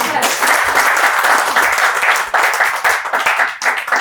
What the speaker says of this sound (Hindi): ताली होना चाहिए इसके।